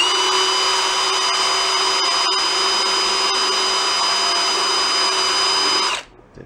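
A power drill with a step bit cuts through a panel on a VW Karmann Ghia, a loud, steady high-pitched whine held close for several seconds before it stops abruptly.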